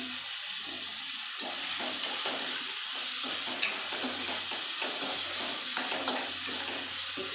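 Paneer and potato sauté in a pan for a Bengali-style dish, with a continuous sizzle under scattered light scrapes and stirring clicks, close and even with no talking.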